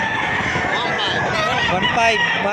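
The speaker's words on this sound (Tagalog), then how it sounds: "Mga kadali, napakadami manok dito" Chickens and roosters at a crowded poultry market cluck and crow continuously, with people talking and bargaining over the birds nearby.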